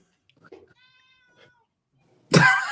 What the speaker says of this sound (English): Did everyone just hear my cat?